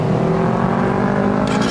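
A Honda CBR 125 motorcycle engine idles steadily under light throttle, a close continuous hum with a slight rise, heard alone without talk.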